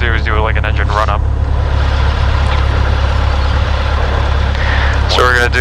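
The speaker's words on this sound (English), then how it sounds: "what we got to do is do like an engine run up" Small aircraft engine run-up near the base of the Colorado Rocky Mountains: a loud, steady propeller engine roar heard from inside the cockpit throughout, with a person talking briefly at the start and end.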